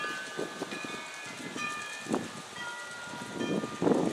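A USAT S4 model train rumbles and clicks along its track at a steady pace, with faint tones ringing in the background; no one speaks.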